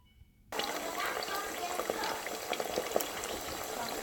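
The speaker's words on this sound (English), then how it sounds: "at this time I'm going to add in the gizzard and then fry it at this time." Chicken gizzard drops into heated oil and sets off a sudden loud, dense sizzle that keeps crackling and hissing steadily, close by, with no voices.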